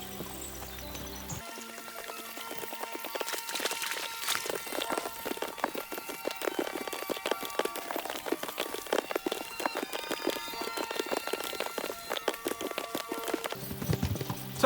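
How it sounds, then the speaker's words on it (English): Horses gallop in the video game Kingdom Come: Deliverance II, with a fast, continuous patter of hoofbeats and clatter sustained at moderate loudness, no talk over it. "As soon as we cross the stream, we'll give the horses a gallop again."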